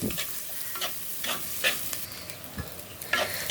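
Onion frying in a pan for a garlic fish bhuna in a clay pot, a steady close sizzle broken by repeated scraping stirs of the spatula, with no talk.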